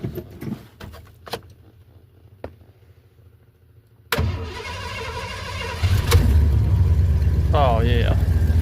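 A 1986 Ford F-150 pickup cranks and catches at about four seconds, then settles into a loud, steady idle that swells later; earlier there are faint clicks and handling noises, with someone speaking.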